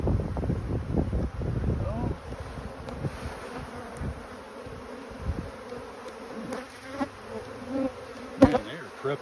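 A dense, close buzzing drone of a honeybee swarm gathering before swarming, loud at first and then thinning, with wind rumble and scattered individual bees passing near.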